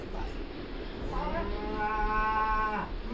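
Cattle lowing in the dirty, windowless livestock hold at the bottom of a ship, one long drawn-out moo swelling in the middle of the clip over a low rumbling background, fairly close.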